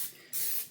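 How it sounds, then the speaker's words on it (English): A short, close hiss of cooking spray aimed at a pan in a home kitchen, with two quick bursts and a brief pause between them. "I am going to spray the pan."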